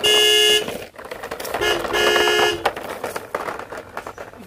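A toy dump truck's electronic horn beeps in short, bright, tonal bursts, close and loud, separated by brief gaps.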